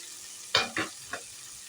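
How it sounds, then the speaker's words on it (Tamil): Ground coconut sautéed in a pan, three brief scraping stirs over a faint low sizzle, close and short. "லைட்டாக வதக்கிடுவோம்."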